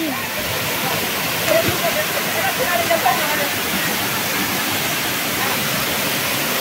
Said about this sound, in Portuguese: Essa é a famosa Cachoeira do Nestor.